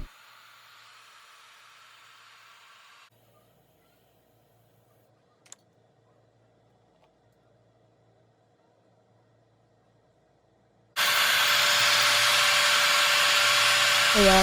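A blow dryer is used on a wig frontal being laid with got2b spray; after quiet rustling and a brief click, the dryer switches on abruptly with a loud, steady whooshing hum close by.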